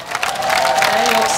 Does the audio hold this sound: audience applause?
yes